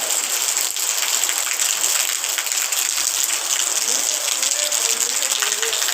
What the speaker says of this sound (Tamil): நேற்று ராத்திரியிலேருந்தே பெஞ்சிக்கிட்டு தான் இருக்குது காற்று தான் பயங்கரமாக இருக்குது